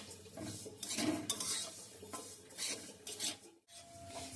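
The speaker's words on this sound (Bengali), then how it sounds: "এটা ভাজতে হবে আর অনবরত নাড়তে হবে" A utensil scrapes and stirs against a pan in irregular strokes while sesame seeds fry with a faint crackle, close up and moderately loud.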